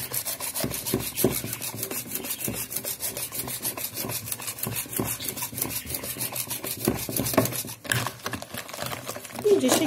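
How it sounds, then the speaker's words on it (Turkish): Fast, steady whisking strokes beating eggs and sugar scrape rhythmically against a bowl by hand, close up, continuing for several seconds with a brief pause near the end. "İyice şeker eriyene kadar çırpalım."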